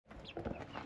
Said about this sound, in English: let's go check on the chickens